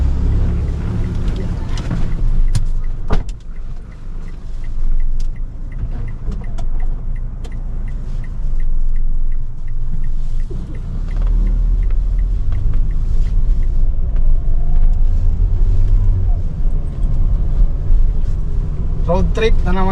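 A jeep rolls along on a group road trip, its steady low engine rumble and road noise filling the cabin throughout, with people talking over it.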